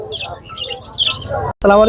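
Birds chirp in quick, high tweets at a busy bird and pigeon market in Mirpur 13, Dhaka, while people talk nearby and louder voices come in near the end.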